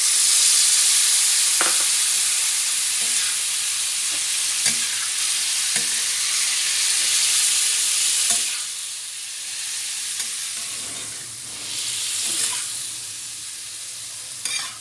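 Chicken pieces sizzle and fry on a hot tawa with a loud, steady hiss, broken by occasional scrapes and taps of a spoon stirring, the crackle easing slightly in the later seconds.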